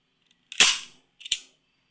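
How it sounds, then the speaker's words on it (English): An X-Shot Kickback toy blaster with its air restrictor removed fires two loud, sharp cracks about three quarters of a second apart, close by, each a bright snap with a short decay and silence around them. "this meant that the blaster will be now very loud"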